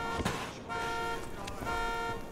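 A car alarm set off by a car trap in the zombie game Dying Light, sounding as a steady horn-like wail with repeated honks, moderately loud amid game noise.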